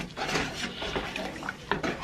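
Saffron being stirred into a rice cake dish in a pot, with a steady scraping and clinking of a utensil against cookware, soft and close, and no talking over it.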